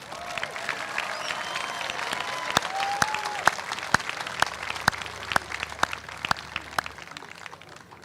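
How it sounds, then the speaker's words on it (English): An audience at the 2022 Pocola graduation ceremony applauds the graduates: sustained, moderately distant clapping from a crowd that holds steady for several seconds, with faint tonal sounds beneath. "Let's give our graduates a round of applause."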